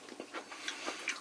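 Chewing on crunchy asparagus cooked in cast iron, a series of close, soft crunching bites with an irregular rhythm, heard alone with no talk.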